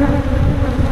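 Honeybees drone in a dense, continuous buzz during an inspection of an unsettled hive, loud and close for the whole short moment.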